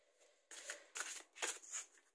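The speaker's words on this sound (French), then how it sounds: "On va prendre une carte du chakra du cœur." An oracle card is drawn from a heart chakra deck during a love reading, heard as three quick papery bursts of card handling, close and fairly soft, with no one talking.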